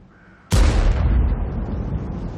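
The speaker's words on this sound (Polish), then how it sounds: "Potężne strzały." A tank gun fires in World of Tanks: after a faint quiet hum, a single sudden, loud boom hits with a sharp crack, then decays into a long, heavy rumbling tail.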